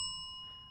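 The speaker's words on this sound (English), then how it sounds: "from now on, if we say either of those words, you're going to hear a bell" A single bright bicycle-style bell ding used as a stream sound effect, struck once and ringing out clearly on its own, slowly fading over under a second.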